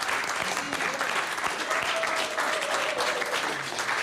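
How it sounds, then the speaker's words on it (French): An audience at a live band performance in Brussels claps in dense, sustained applause that holds steady and loud throughout. "vous pouvez continuer à les applaudir"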